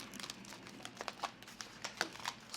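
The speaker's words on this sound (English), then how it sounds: "We're going to be stuffing a few envelopes in here." Quiet paper crinkling and rustling as cash is stuffed into paper envelopes, a run of soft, irregular crackles and short tearing-like rasps spread across the moment, close up and alone.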